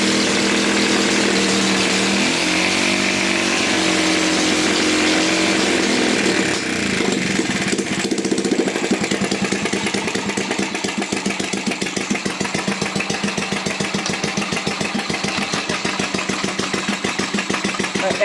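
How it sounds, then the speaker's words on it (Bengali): A farm power tiller's engine starts and settles into a loud, close, rapid chugging run that pulses evenly and continues steadily to the end. "এখন টিলার শুরু করে"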